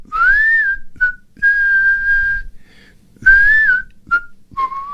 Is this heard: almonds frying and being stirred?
no